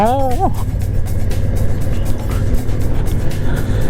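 Honda Africa Twin motorcycle riding along the Atlantic Highway toward Land's End in hot weather, a loud steady engine drone and rushing wind, with a brief rising tone at the start and no break throughout.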